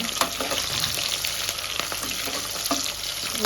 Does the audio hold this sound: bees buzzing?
no